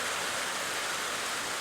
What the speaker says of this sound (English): Well, friends, I'm getting rained out.